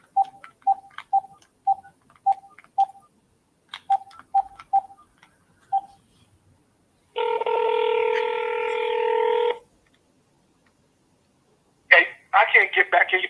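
A telephone call is placed: a quick series of dialing tones in two bursts, followed by a loud steady ringback tone for about two seconds, then a short burst of distorted voice on the line.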